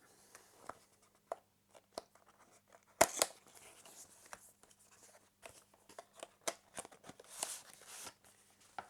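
Cardboard box packaging for a small MP3 player being opened, with quiet scattered rustles, taps and tearing clicks, one sharper crack near the middle and denser crinkling toward the end; no talk.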